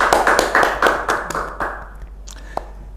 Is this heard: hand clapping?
yes